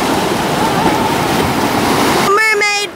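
Surf rushing and breaking against the shore makes a steady broadband roar at close range, cut off near the end by a burst of excited voices.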